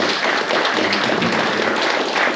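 Audience applause at a club annual general meeting, a dense, loud, sustained burst of many hands clapping close by for a couple of seconds.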